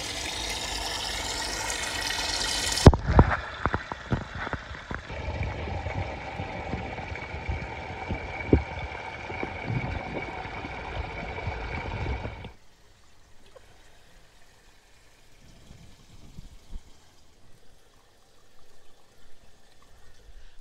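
A camera plunges into an aquaponics fish tank with a loud splash and rush of water, then settles into a muffled underwater hum that fades to near quiet.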